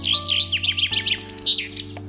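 A small bird sings a quick run of bright, repeated chirps and trills, loud and close, over a steady low electronic hum with no talk.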